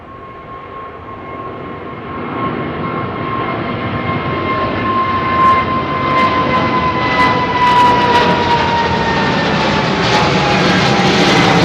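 A Concorde jet taking off from Heathrow runway 09R, a loud roaring engine rush that builds steadily, with a high whine running through it and a few clicks in the later part.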